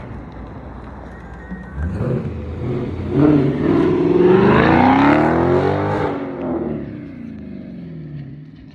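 A car drives past with its engine rising and falling in pitch as it accelerates and recedes, swelling to a loud peak midway before fading, with no talk over it.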